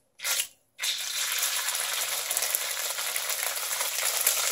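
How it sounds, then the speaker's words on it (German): Salmon fillets searing in a hot wok with lemon oil, a brief hiss followed by a steady, loud, broadband sizzle that continues without pause, with no talking. "Braten wir jetzt leicht scharf an"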